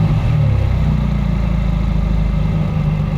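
The 2021 Mercedes-AMG GT Black Series with its flat-plane crank engine rumbles through round exhausts, a loud, steady low-pitched idle with a throbbing burble and no talk over it.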